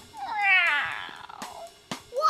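A single drawn-out cat meow rises and falls over about a second, followed by a few short knocks and scuffs, heard in a comic radio-style skit about a cat shut in a box with a poison vial.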